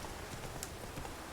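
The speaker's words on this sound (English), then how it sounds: "Riding on my horse." A horse's hooves clip-clop steadily while being ridden in The Witcher 3: Wild Hunt, a muted, even trot under a continuous wash of game ambience.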